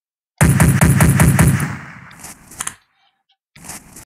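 Rapid machine-gun fire in a fish-shooting video game, a loud fast burst of about a second and a half that tails off into a few scattered shots and clicks, then a brief later sound after a short silence.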